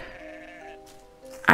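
A little sheep bleats in a long, steady, wavering call followed by a second, shorter bleat, close and clear, with a sharp knock at the very end and no speech.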